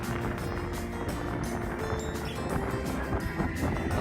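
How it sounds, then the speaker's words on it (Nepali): Wind sweeps across the Sogeumsan suspension bridge in Wonju, South Korea, in a steady, loud roar with buffeting gusts against the microphone. "यो हावाले कराएर न यसको साउन्ड"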